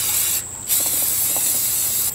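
An aerosol spray paint can hisses outdoors in two long bursts with a brief pause between, spraying small metal tins in a cardboard box, with some faint rattling underneath.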